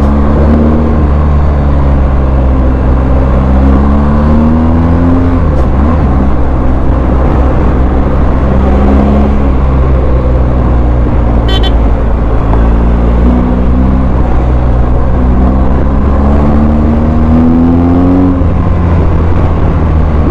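A 2023 BMW R 1250 GS Trophy motorcycle being ridden, its engine a loud, constant drone with rising and falling pitch as the rider shifts and revs through twisty roads, wind noise layered over it.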